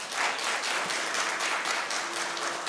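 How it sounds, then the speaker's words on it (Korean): Audience applause after a lecture at a youth and parents seminar, a dense steady wash of many hands clapping indoors, sustained evenly with a faint voice near the end. "강의에 다시 한번 큰 박수로"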